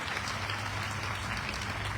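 An audience gives a speaker continuous applause, a dense, even wash of many hands clapping at moderate volume for about two seconds, with no talk over it.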